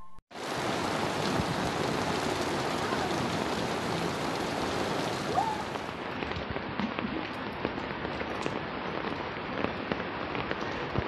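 Heavy rain pours steadily outdoors, a loud, dense, continuous hiss that eases slightly partway through but keeps falling without pause.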